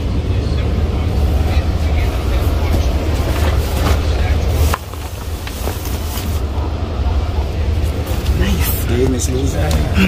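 A Long Island Rail Road train from Shirley to Jamaica rolls steadily along the rails with a continuous low rumble and clatter, and muffled voices underneath.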